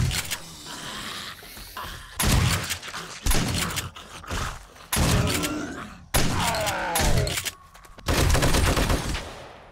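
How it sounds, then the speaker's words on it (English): Gunfire in the 7 Days to Die video game aimed at a chain link fence comes as loud, close bursts of repeated shots separated by short gaps, with a metallic rattle between some volleys. "Why not shoot through that chain link fence?"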